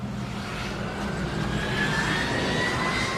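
Jet airliner taxiing along a runway, a steady broad engine roar with a rising whine that holds loud and constant throughout, no voices.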